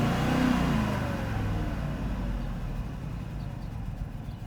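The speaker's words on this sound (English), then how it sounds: "Let's rev it." A 1997 hearse's engine revs while parked, a steady loud mid-pitched roar that swells early and then settles to a lower, even hum with no talking over it.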